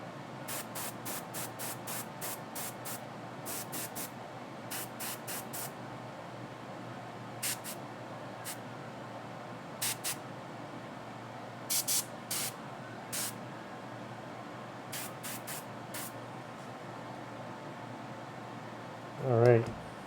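An airbrush sprays paint in short, faint hissing bursts, irregular and spaced out over a quiet room background.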